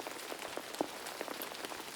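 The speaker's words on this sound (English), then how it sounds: "watched the rain falling over Sleepy Forest" Steady rain falls on surfaces around Sleepy Forest, a soft, even hiss with scattered distinct drop taps, moderately quiet and with no voices.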